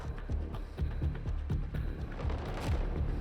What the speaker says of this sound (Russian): Небо в эти дни озаряется множеством фейерверков